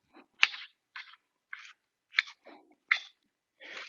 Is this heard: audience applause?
no